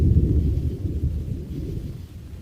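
Low rumbling thunder rolls during a severe rain storm, loud and close at first, then slowly fading over a couple of seconds.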